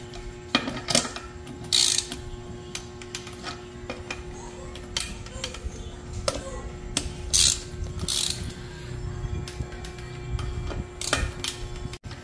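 A ratchet wrench clicks in repeated bursts while tightening bolts on a Honda Click scooter with a 63mm big-bore block, a close, crisp run of pawl ticks broken by short pauses.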